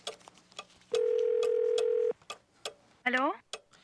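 A telephone dial tone in the Gabriel Knight 2 video game holds steady for about a second amid soft clicks, followed by a short warbling electronic burst.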